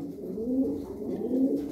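Pigeons coo in a low, throaty rolling rhythm, two soft swelling phrases close by with no talk over them.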